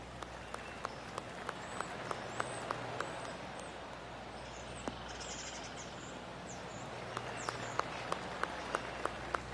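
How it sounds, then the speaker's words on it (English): Scattered golf-clap applause drifts across a course in a 2K Sports golf video game, faint and distant over a soft outdoor ambience with occasional birdsong and sharp ticks. "I can hear the golf claps around the course."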